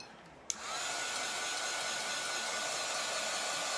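A hair dryer drying chalk paste on a decorative cutting board clicks on and runs as a close, steady whooshing roar until the end.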